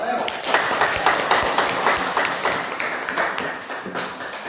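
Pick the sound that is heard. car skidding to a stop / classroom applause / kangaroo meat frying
classroom applause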